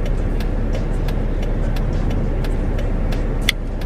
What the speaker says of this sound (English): I'm driving, so I gotta be careful.